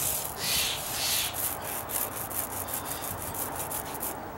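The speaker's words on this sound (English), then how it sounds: "this roller's working a lot better now" A paint roller rubs primer onto wooden deck stair treads with dry rot repairs, a steady near scraping swish in repeated strokes, alone without talk.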